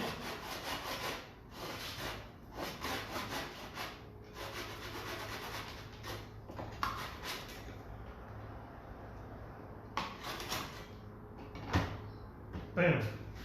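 A hand saw cuts wooden screen moulding in repeated back-and-forth strokes, with short pauses between bursts of sawing and a few knocks of wood near the end, close and fairly loud.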